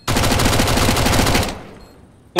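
Rapid automatic gunfire in the video game CS:GO, a loud sustained burst of closely spaced shots for about a second and a half that cuts off and fades, with another sharp shot right at the end.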